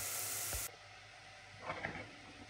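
Garlic and onion fry in a pan while sautéing for ginisang mongo. A loud, bright sizzle dominates at first, then drops to a quieter steady frying hiss with faint stirring scrapes, close up and without talk.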